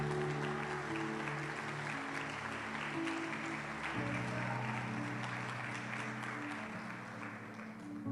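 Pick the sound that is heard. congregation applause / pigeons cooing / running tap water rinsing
congregation applause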